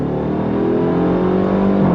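A 2025 Dodge Durango Hellcat Hammerhead SUV's supercharged engine revs hard toward redline, a loud, continuous rising roar with climbing harmonic tones and no talking.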